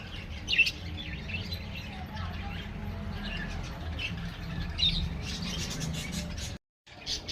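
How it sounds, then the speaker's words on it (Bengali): Outdoor birds squawk and chirp with scattered sharp calls over a steady low background rumble, fairly close, briefly cutting out near the end. "দেখো পাখির আওয়াজ আসছে"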